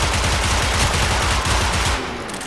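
Rapid automatic gunfire from a gun in a video game, a dense, loud, steady stream of shots that cuts off near the end, leaving a lower rumble.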